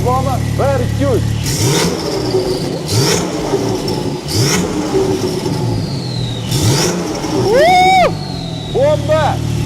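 A Porsche 911 Singer GTR Carbon Edition engine revs up sharply, first in a quick burst and then with a louder climbing rev near the end, surrounded by rumbling and bursts of nearby noise.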